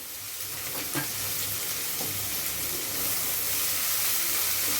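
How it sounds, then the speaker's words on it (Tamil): Long-sliced onions frying in hot oil for Chinese bread packet balls, a continuous close sizzle with a few faint stirring scrapes and no talking. "வெங்காயம் வதங்கணும், நல்லா வதங்கி வரட்டும்"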